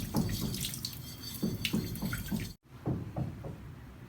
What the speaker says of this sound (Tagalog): lagyan na natin siya ng sabaw para lumambot yung ating chicken feet